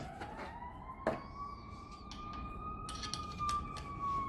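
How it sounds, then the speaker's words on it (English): Ambulance sirens wailing through the city streets of Chicago, a long rising and falling tone sweeping continuously over steady urban traffic noise, moderately distant, with a brief sharp knock partway through. "I don't know if you'll be able to hear the ambulances."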